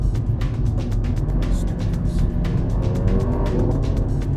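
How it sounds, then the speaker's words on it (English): Mercedes-Benz CLA45 AMG engine and exhaust running steadily with a dense low rumble, close and loud, with faint crackle over the drone rather than a sharp distinct brap. "It's this cool brap brap noise. It reminds me of a rally car waiting at the line"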